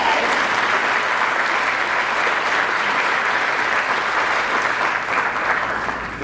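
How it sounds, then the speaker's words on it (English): A steady, full round of applause from a live audience greeting a couple, someone's mother and father, at a gathering for parents of student athletes. The clapping is dense and even throughout, with no talking over it. "Nice little round of applause for my mom and dad."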